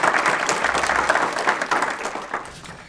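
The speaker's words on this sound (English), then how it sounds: "Please give Ms." Applause for a staff member at a county board of education meeting: a roomful of people clapping steadily for a few seconds, fairly close, then slowly thinning out.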